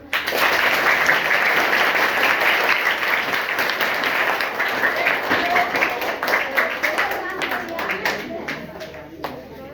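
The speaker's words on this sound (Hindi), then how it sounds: "ताली बजाते हैं" A village gathering claps along during a talk. The dense, continuous applause holds for nearly ten seconds and is loud and close, then breaks into more scattered individual claps toward the end.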